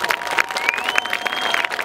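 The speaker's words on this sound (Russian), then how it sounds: "Давайте похлопаем, давайте поаплодируем." Audience applause at a public gathering honoring a twice-Olympic-champion athlete, a steady patter of clapping hands with a few whistles or cheers through nearly two seconds.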